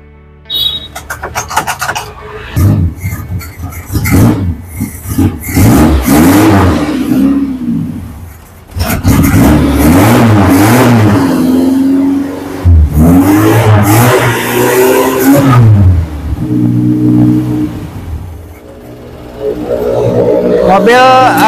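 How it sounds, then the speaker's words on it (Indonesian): A Suzuki Carry minibus engine is cranked and catches, then revs up and down repeatedly in uneven bursts, loud and close, with someone talking in between. "Coba kita hidupkan, bisa hidup enggak"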